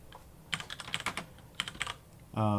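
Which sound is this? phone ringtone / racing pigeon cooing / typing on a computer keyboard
typing on a computer keyboard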